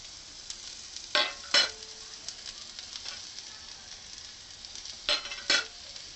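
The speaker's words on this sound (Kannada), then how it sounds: "ಈಗ ನೀರುಳ್ಳಿ ಹಾಕ್ತೇನೆ ಒಗ್ಗರಣೆಗೆ." Chopped onion sizzles steadily in hot oil as a tempering for silver fish curry, with a few louder spatters and scraping stirs of a spoon against the pan and no talking.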